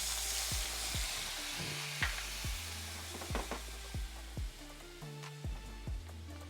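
Chopped onion sizzling in leftover bacon fat in a pot, a steady soft frying hiss with a few stirring clinks, quiet and close, no talking.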